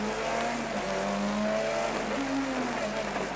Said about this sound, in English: now to another tight hairpin as he accelerates away in the Mazda